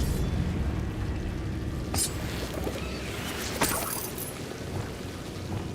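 Spell blasts from Bombarda and Confringo in the Hogwarts Legacy video game: two sharp, bright explosive bursts about a second and a half apart, set over a steady low rumbling game background.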